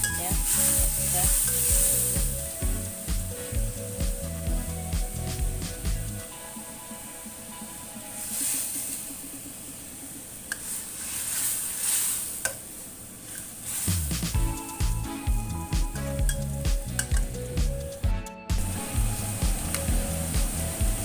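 Chili spice paste frying in hot oil, a steady close sizzle with frequent stirring scrapes and clatter, the sizzle settling into a softer hiss partway through before the stirring picks back up.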